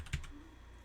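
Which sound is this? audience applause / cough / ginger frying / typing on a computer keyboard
typing on a computer keyboard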